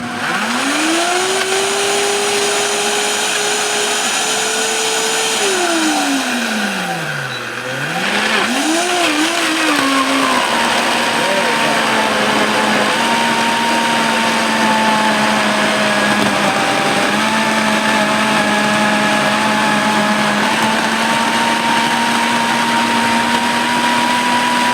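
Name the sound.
electric mixer mixing vegan sweet potato pie filling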